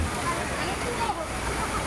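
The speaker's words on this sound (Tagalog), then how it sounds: "yung kita niyo naman yan yung current na dinadala ng tubig na yan" A strong, swollen river in flood after a storm, its current rushing and sloshing steadily with a dense, close roar, some debris and trash clogging the channel near homes.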